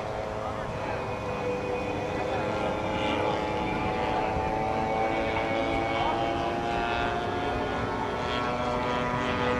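A P-47 single-engine World War II propeller fighter drones steadily in a flight simulator game, its engine hum even and continuous throughout, with a narrator speaking over it.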